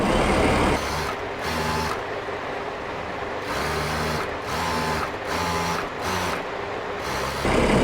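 A sewing machine edge-stitches a trouser hem in short rhythmic bursts of rapid stitching separated by brief pauses, close and clear against a steady hum.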